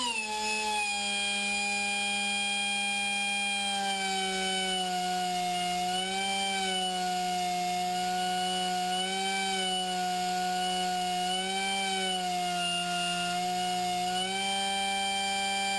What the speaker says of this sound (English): Put your shop air to it, and I actually put a valve on here so you can adjust the speed of the die grinder